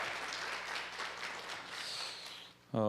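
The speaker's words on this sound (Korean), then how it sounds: "we want to welcome you with a round of applause." Church congregation applauding during a Sunday worship service, a steady broad wash of clapping that fills the room, then cuts off abruptly near the end as a louder low tone begins.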